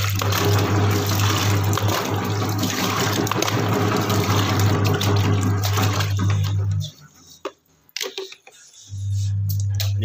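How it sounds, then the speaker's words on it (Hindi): Water is poured onto a floor before mopping, a steady close splashing pour that stops for a couple of seconds and then resumes. "डालते हैं सबसे पहले पानी"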